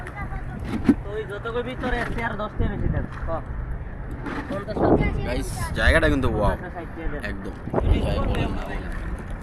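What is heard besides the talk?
boat ride on the water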